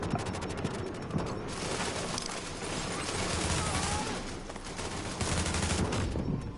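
Dense, sustained gunfire in The Division video game: rapid automatic bursts and overlapping shots fill the whole stretch at steady loudness, with a brief lull partway through.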